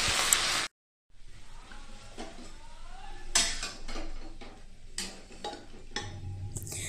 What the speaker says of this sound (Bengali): তো যা নাড়া নেড়ে নিয়েছি